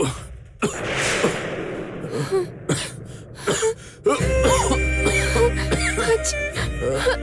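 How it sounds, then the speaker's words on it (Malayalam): A person coughs several times in harsh, spaced fits with gasping breaths between them, then music starts and continues underneath. "ചുമക്ക് ചുമക്ക്."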